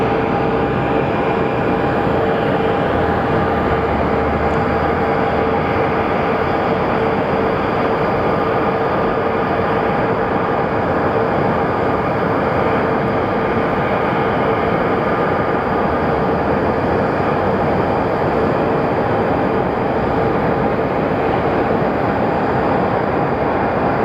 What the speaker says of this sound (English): pretty smooth landing from the flight from Baltimore